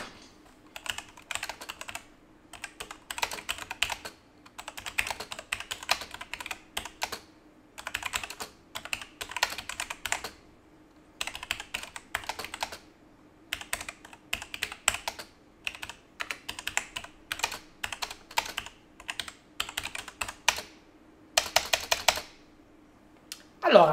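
Rapid clicking keystrokes on a Logitech G910 mechanical keyboard, heard up close in repeated typing bursts with brief silent gaps over a faint steady hum.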